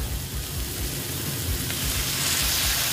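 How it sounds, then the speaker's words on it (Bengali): Water poured into a pan of aloo bhindi, potato and okra cooking in oil, sets off a steady close sizzling hiss that holds for the whole stretch, with no voices over it. "এবার আমি এখানে অল্প অল্প জল অ্যাড করব"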